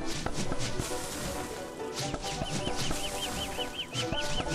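Chicken-like bird in Don't Starve Together clucking in a quick series of short calls over game music and effects, with no talking.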